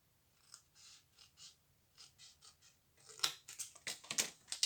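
Scissors snip through paper, cutting four slits for a paper pinwheel: a run of soft, quiet snips followed by sharper, louder cuts close up, with no talking.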